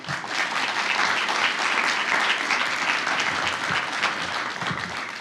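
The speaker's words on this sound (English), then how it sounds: "How about a round of applause for all of them?" A gala audience at a 100th anniversary celebration breaks into sustained, dense applause, many hands clapping steadily at close range for several seconds with no talking.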